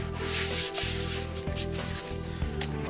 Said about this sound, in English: open it up and give it a clean